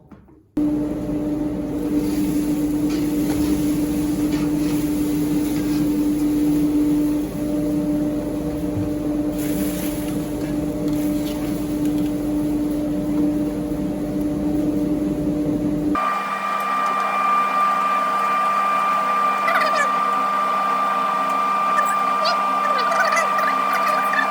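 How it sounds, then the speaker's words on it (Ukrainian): A workshop dust extractor runs with a steady, loud droning hum and a constant tonal whine. Its pitch and character shift abruptly partway through, and a voice talks over it. "витяжка в мене отак працює в цьому випадку"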